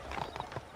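Hooves of a horse galloping in the Red Dead Redemption video game, a quick steady clip-clop rhythm of several beats, close and fairly quiet, with no talk over it.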